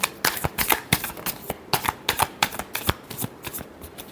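A deck of tarot cards is shuffled by hand, a quick run of crisp riffling flicks in close succession, loud and near.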